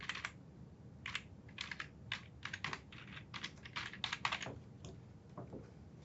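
Quiet, close keystrokes on a computer keyboard as a folder name is typed, irregular clusters of taps with short pauses between them.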